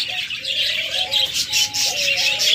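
Lovebirds chirping in a breeding cage, a close, lively run of repeated high tweets and short whistled calls with no voices.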